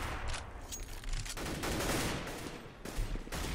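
AK rifle fire in a CS:GO match on de_inferno, several loud bursts and rapid shots crackling densely together throughout, with no voices over them.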